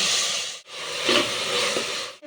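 Onions frying in oil for a home-cooked beef curry give a loud, steady broadband sizzle, close up. The hiss fades briefly twice as the pan is stirred, and no one talks over it.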